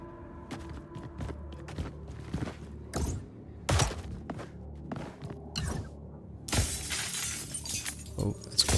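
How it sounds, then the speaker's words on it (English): Glass shatters in an indie video game, with a series of sharp crashes and scattered thuds followed by a louder, bright smashing burst near the end, over low game ambience. "Oh, it's glass."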